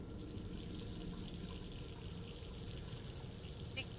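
Water in the Roblox game Blair gives a faint, steady rushing hiss that continues unbroken throughout.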